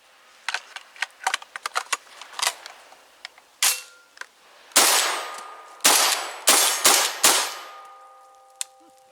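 Shots from a RIA VRBP 100 shotgun at an outdoor range: a string of sharp, loud cracks, first several quick lighter snaps, then four heavy booming blasts spaced about a second apart, each with a short ringing tail.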